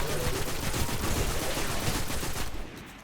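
Dense burst of gunfire and explosions from the video game Destiny, fired at hobgoblin enemies: a loud, continuous rattle of shots and blasts that suddenly cuts off near the end, with no talking.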